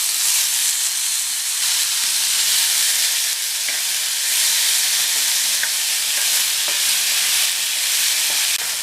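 Horse gram sundal being stirred in a hot pan with dried chilli and asafoetida, a continuous loud sizzle and hiss with scraping stirs, no voices.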